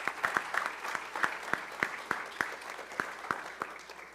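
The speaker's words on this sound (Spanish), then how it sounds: "lo recibimos con un aplauso antes de darle la palabra" Sparse applause from a conference audience welcoming a panel coordinator at a tourism event, scattered distinct claps at a moderate distance rather than a full ovation.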